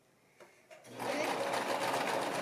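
A sewing machine stitching a baby romper starts up after a couple of soft clicks, then runs in a steady, close, loud whir.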